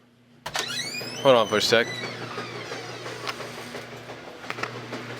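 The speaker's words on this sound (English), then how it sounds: "that's the laundry, and that's the washing machine you heard in the background" A washing machine runs in the background of a home, a steady low hum that continues beneath a person speaking nearby.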